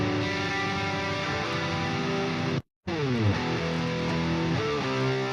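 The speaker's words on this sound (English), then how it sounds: "Nice. More full distortion." Electric guitar run through an amp plugin set to full crunch distortion, sustained saturated chords, then a brief silent gap before a new thick, gritty chord rings out, loud and steady.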